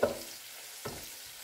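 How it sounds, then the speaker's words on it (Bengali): Onions fry over high heat in a pan with a soft, steady sizzle. Two louder stirring scrapes come at the start and near the middle, and nobody speaks. "আমি একটু উঁচু জালেই এটাকে 1 মিনিট মতো ভেজে নেব"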